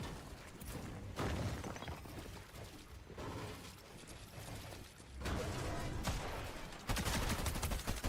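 Pistol gunfire in a competitive first-person shooter match, rapid bursts of shots and mechanical clatter running continuously with a few louder surges, dense and close, no talking.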